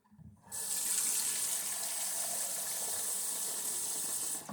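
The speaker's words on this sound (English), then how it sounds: "Let's add a little water." Water runs steadily from a tap into pineapple fruit wine, starting abruptly after a brief bump and continuing as a bright, constant hissing stream, close and fairly quiet.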